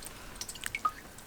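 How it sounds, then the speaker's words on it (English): Water drips down through a pepper tower planter after watering, a few faint, soft, separate drops and small trickles close by in a quiet setting. "But it has started dripping down here, so everything has gone through"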